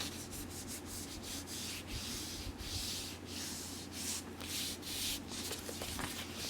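Papery vinyl record sleeve handled close up, giving a soft continuous rubbing and scraping texture with brief brushing strokes, steady and quiet throughout with no talking.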